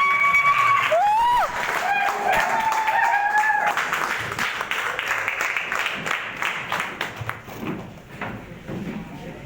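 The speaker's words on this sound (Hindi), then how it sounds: "तो एक बार जोरदार ताली" Audience applause at a talk breaks out as a loud crowd clapping over a whooping, rising call, then thins into scattered claps that fade toward the end.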